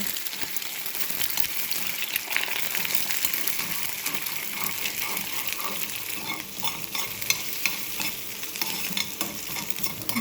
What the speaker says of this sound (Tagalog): Scramble lang natin ng ganyan.